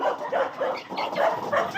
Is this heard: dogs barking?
yes